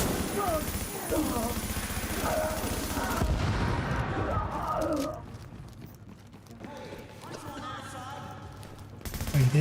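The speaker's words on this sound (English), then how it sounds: "I'm gonna shoot them myself." Bursts of gunfire in The Division, heavy and loud through a chaotic firefight, dropping away midway before the shooting picks up again, with a voice speaking amid the noise.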